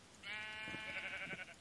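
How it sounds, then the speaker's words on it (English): A sheep in the Minecraft mod Better Than Wolves gives one drawn-out, nasal bleat lasting over a second, loud and close, with no talking over it. "Come here, Mr. Sheep."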